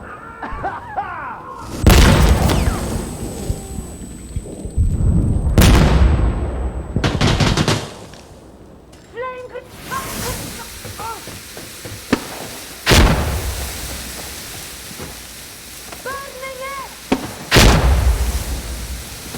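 Heavy artillery fire support in the shooter game Insurgency Sandstorm lands as repeated loud booming explosions, several big blasts spread across the stretch, mixed with gunfire bursts and brief radio-style voices.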